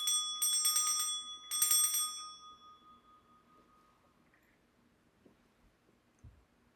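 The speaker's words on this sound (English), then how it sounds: "I'm going to start by clearing the energy with my bell." Two bright, ringing strikes of a small bell used to open a tarot reading, each shimmering tone fading slowly into near silence, followed by a few faint clicks.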